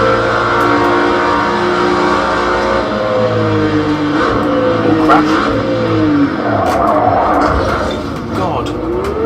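Group C race car engine in Project Cars 2 roaring steadily throughout, with rising and falling revs as it shifts through gears, loud and close, while someone talks over it.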